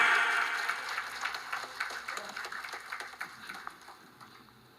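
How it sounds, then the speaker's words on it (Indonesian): An audience claps at a religious lecture, producing a burst of dense applause that starts strongest and gradually thins into scattered claps as it fades. "Tepuk tangan."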